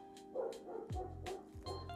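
A dog yips and barks a few times, sharp and fairly close, over a quiet indoor background.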